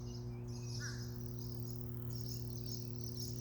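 Birds calling outdoors, with squabbling chirps and caws coming in bursts against a steady insect drone and a low constant hum; no one talks.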